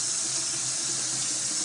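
Water pours steadily into an Instant Pot pressure cooker holding a pot roast in one continuous, close splashing stream, with no voices.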